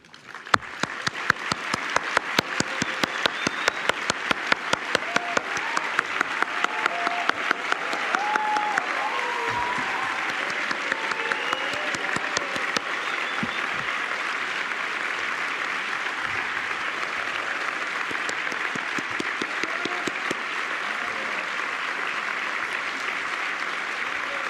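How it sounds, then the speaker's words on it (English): Sustained applause from a graduation ceremony audience for Dean's List MBA graduates in Singapore, opening with a few sharp individual claps and settling into a steady, even wash of clapping from a large crowd, with no speech. "give you a round of applause for this"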